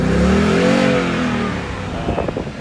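A Ford Mustang V8 engine revs up close, its deep, loud rumble rising and swelling before easing back down into a lower, rougher throb near the end.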